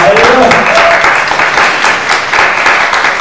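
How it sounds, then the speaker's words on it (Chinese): A church congregation at a Saturday service applauds loudly and continuously, a dense wash of many hands clapping close by. "用掌声献给耶稣"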